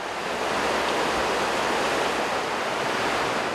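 The swollen Irpavi river in La Paz, running high after persistent rains, makes a loud, steady, unbroken rushing roar of churning water.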